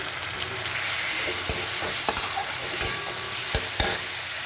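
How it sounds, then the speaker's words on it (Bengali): Soaked moong dal frying in hot oil in a kadai, tempered with mustard seeds and green chilli, makes a continuous sizzle broken by several distinct stirring scrapes and taps. No one speaks. "মুগের ডাল ধুয়ে ভেজানো আছে, কড়াই দিয়ে দিলাম"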